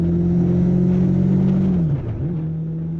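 A motorcycle rides along a road in Telemark, Norway, its engine droning steadily and close, with a brief dip in pitch and volume near the end as the rider shifts or eases off, then settles again.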